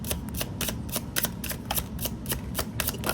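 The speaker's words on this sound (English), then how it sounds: "Ooh, these cards are gonna go crazy." Slippery tarot cards being shuffled by hand, giving a steady run of crisp riffling bursts close to the mic with no talking.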